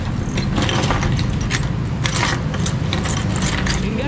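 A large bunch of keys jangles and clinks steadily up close while someone rummages through them searching for a Yamaha NMAX 155 key, with no voices.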